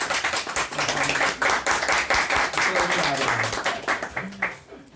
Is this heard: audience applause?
yes